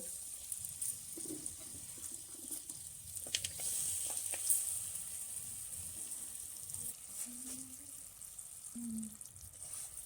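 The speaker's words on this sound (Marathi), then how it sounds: "गुल आता तुपावर चांगला आपण वितळवून घेऊ" Chopped jaggery melting in ghee with raisins and dry fruits in a pan for traditional coconut rice, giving a steady low sizzle with faint clinks and soft stirring, heard alone without talk.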